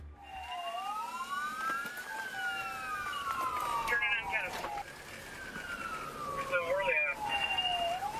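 A police car siren wails in rising and falling sweeps, loud and close during a chase, with a second siren tone joining partway through over traffic rumble.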